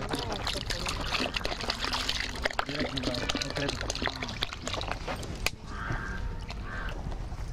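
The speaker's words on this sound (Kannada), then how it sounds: "ಈ ಈ ಬಕೆಟ್ಗೆ 2 ಲೀಟರ್ ಸಮ ನೀರನ್ನು ಹಾಕಬೇಕು" About two litres of water pours into a bucket of freshly mixed preparation, a steady, busy splashing and trickling that runs throughout amid background clatter.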